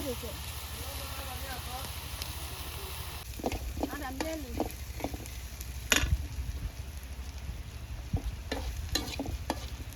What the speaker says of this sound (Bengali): এখানে রসুন কাঁচামরিচ আর পেঁয়াজ ভাজতেছি